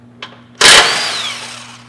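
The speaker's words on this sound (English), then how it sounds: "I'm going to use power tools because that's the kind of guy I am." A power tool spins up against a bumper bolt on a Ford Transit, a short click followed by a loud, close whir that rises sharply, then trails off gradually.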